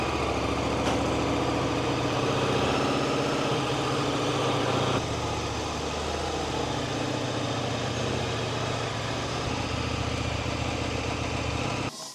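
A KTM 1390 Super Duke motorcycle engine idles close by with a steady, even throb that holds for about twelve seconds, shifting slightly in tone partway through, before cutting off abruptly, with no voices.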